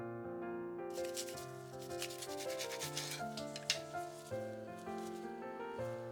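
Knife slicing through a ham sandwich, a soft repeated scraping and rubbing heard under steady background music.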